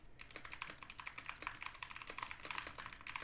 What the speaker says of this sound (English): I suck at typing with this keyboard